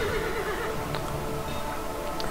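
A horse neighs in the War Eden video game trailer, a loud whinny over steady background game music and ambience.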